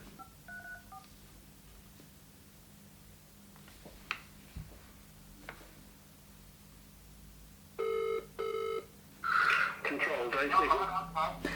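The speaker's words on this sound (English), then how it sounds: "Okay, so let's ring the number that was on the Tunnel." A phone dials a number, with a short run of DTMF keypad tones and then ringback tone bursts on the line; speech follows near the end over a faint background hum.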